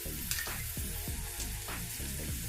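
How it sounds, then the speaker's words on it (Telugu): Onions and ginger-garlic paste fry in a pan for pav bhaji, making a loud continuous sizzle up close, broken by repeated spatula scrapes and knocks against the pan. "ఇప్పుడు ఇందులో 1 టీ స్పూన్ వరకు అల్లం వెల్లుల్లి పేస్ట్ వేసి వేయించుకోవాలి."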